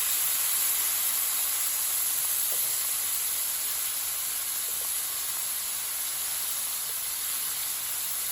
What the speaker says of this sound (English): So these onions will saute for about 10 minutes or so.